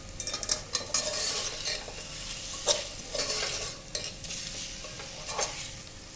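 Biryani masala with coriander and mint being stirred in a pan for egg biryani, a bright continuous sizzle with repeated spatula scrapes and clatters against the metal, close up and without talk.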